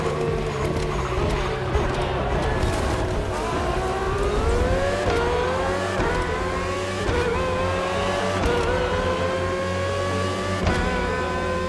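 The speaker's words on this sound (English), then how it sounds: "RB18 is the latest model with more aggressive aerodynamics and a powerful Honda engine" A Red Bull RB18 race car with a Honda engine in the racing video game The Crew Motorfest screams at high revs, its loud engine pitch climbing repeatedly through upshifts, continuous and dense with no voices.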